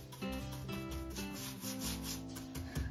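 The back of a sponge rubs patina into a piece of wooden lounge furniture, making a continuous soft scrubbing, quiet and close, beneath a steady tonal background with no talk.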